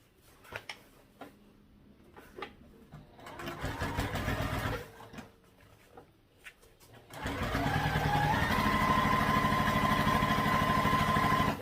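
A sewing machine top stitches a tote bag panel in short bursts, then in one long steady run, a close rapid mechanical whir with pauses between stitching.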